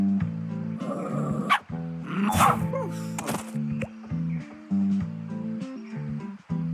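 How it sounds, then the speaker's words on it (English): Several short dog barks and yips from the video game Crankles sound over steady tonal game music, moderately loud and intermittent across the stretch. "There's a dog over here."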